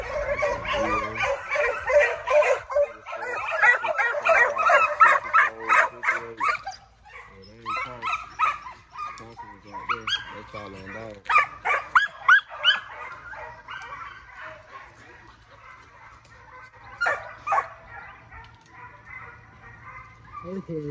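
Foxhounds bay and bark in a fox pen as they chase a coyote, a string of excited yelps rising and falling over about twenty seconds while someone talks over them.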